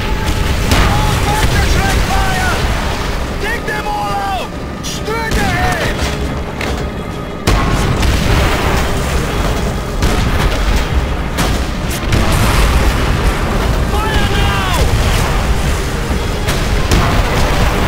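Tank shells explode in Call of Duty: World at War, a loud, continuous barrage of booms and blasts across the battlefield, with voices calling out over the din.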